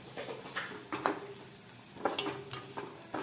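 Sugar stirred into spiced oil in a pan for a leftover-roti snack, with a soft background sizzle and repeated light scrapes and clinks of a spoon against the pan.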